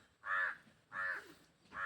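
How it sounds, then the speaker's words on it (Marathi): A crow caws three times in a steady rhythm. The calls are harsh and fairly close, with short gaps of quiet between them and no speech. "कावळा."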